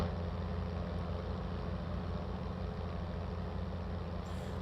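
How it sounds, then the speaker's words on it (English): The simulated engine of a Globe Swift aircraft idles in Microsoft Flight Simulator, a quiet, steady droning hum with an even low pulse that holds unchanged throughout. "it's a realistic engine sound for an uninsulated aircraft"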